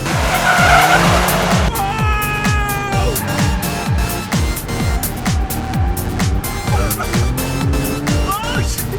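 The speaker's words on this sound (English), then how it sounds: "That's drifting." A kei car drifting in Japan, tires skidding and squealing continuously over a rhythmic, rising and falling engine drone, loud and close throughout.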